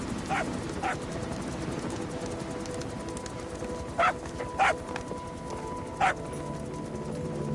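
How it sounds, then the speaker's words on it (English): A dog barks in the Metal Gear Solid V video game, with a few short, sharp barks spaced apart over a steady background of ambient noise. "Here's the dog you brought back."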